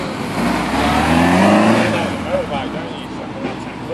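A car drives past at a supercar meet in Preston, its engine swelling as it nears and then fading away, with people talking nearby.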